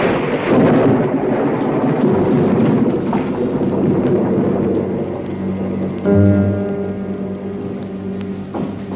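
A thunderstorm with rumbling thunder over steady heavy rain, with deep low rolls that swell and fade and a constant wash of rainfall throughout.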